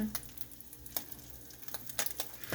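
Canned salmon patty frying in a pan, a steady soft sizzle with a few scrapes and light clicks of a spatula as it is flipped over, close and fairly quiet.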